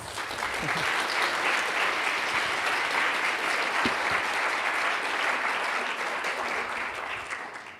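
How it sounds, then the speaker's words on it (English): An audience applauds a keynote speaker at a conference with a full, sustained wash of clapping from a large crowd, steady and even throughout before easing slightly at the close. "Again, applause for Katja, please"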